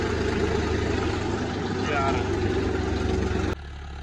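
A John Deere 5204 tractor engine drones steadily under load while pulling a seven-tine cultivator through a field, with a low continuous rumble that drops abruptly near the end.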